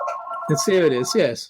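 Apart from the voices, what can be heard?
landline telephone ringing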